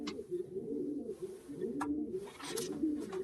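Racing pigeons coo in soft, low, rolling phrases that repeat steadily nearby. Brief flutters and small scuffs are heard now and then between the calls.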